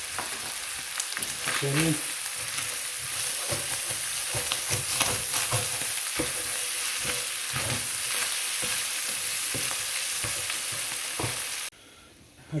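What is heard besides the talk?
tomato paste sizzling and stirred in a pan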